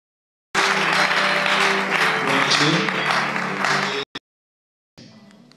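A church congregation breaks into loud, sustained applause and cheering for several seconds, dense and close, then cuts off abruptly, followed by a brief burst and fainter crowd noise.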